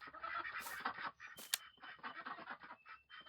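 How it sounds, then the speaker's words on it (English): A duck quacks in the farming video game Farming Simulator 19 on the Hof Bergmann map, faint honking calls over a busy bed of game ambience and background sound. "There's a duck."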